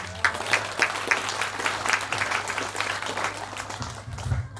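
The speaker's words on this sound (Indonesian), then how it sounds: "Tepuk tangan." Audience applause during a Hindu dharma talk at a Balinese temple, several sharp claps at first building into a loud, close round of clapping with a low hum underneath.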